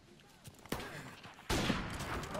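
Gunfire in a first-person shooter game, with a couple of sharp close shots and a louder burst near the end, set over faint background game noise.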